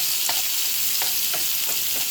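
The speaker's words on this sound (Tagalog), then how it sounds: "Ayan, nasunugan ako ng bawang." Garlic fries and sizzles loudly and continuously in a pan, with a few soft stirring scrapes cutting through the hiss.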